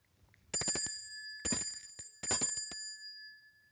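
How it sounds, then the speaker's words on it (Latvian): A small bell rings out the third call before a children's puppet theatre show, in three quick bursts of bright, rapid metallic ringing separated by short pauses, close and clear in a quiet room. "Trešais zvans."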